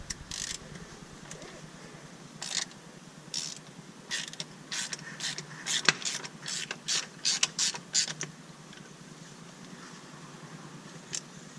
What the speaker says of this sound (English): While the oil's draining, I'll remove the filter